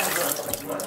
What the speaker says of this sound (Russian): Все затянули, после этого можно воду запускать.